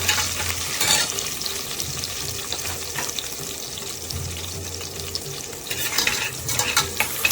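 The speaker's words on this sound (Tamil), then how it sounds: "பட்டை, ஒரு பிரிஞ்சி இலை, இதெல்லாம் சேர்ந்து நல்லா வதங்கட்டும்" Cinnamon and a bay leaf sauté in hot oil in a pan for coconut milk rice, giving a steady bright sizzle with scraping stir sounds throughout and a few sharper clatters near the start and end.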